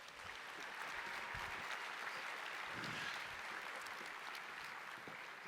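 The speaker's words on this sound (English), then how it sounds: "One more round of applause, please." Keynote audience applause at a large Apple management and security conference, a steady, dense wash of clapping from a big crowd heard at a distance, holding even for several seconds.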